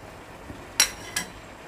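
Metal lid set onto a cooking pot while making raw green tomato chutney on a stove, two quick clinks close by against a quiet kitchen background.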